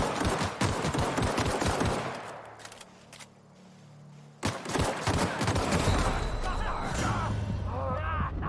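Rapid bursts of gunfire in The Outer Worlds on PS4, a dense volley of shots in the opening seconds, a quieter lull, then renewed firing with game sounds, loud and close.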